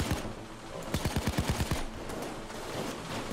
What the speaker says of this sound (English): They're trying to shoot through the floor.